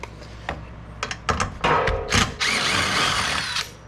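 A hand ratchet works loose an 8mm fastener on the plastic mud guard of a 2019-2023 Ford Ranger FX4, giving several short clicking bursts followed by a longer, steadier run of rapid ratcheting, close and clear.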